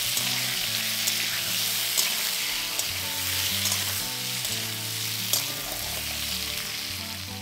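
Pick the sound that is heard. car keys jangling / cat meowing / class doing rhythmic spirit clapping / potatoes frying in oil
potatoes frying in oil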